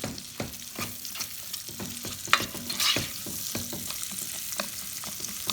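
Onions fry in a pan for a vegan curry, with a soft sizzle broken by repeated sharp scrapes and taps of stirring, heard up close.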